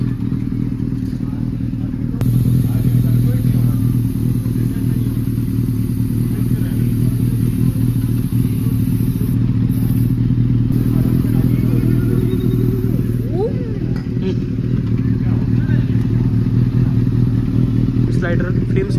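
Benelli 600i motorcycle engine idling steadily with a low, continuous rumble throughout, close and loud, with occasional clanks from nearby work in a custom shop.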